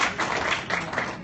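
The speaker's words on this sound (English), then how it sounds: "Give him a nice round of applause for" A seminar audience gives a round of applause for a volunteer helper at a training session, a steady wash of many hands clapping close by for the whole stretch, with no talk over it.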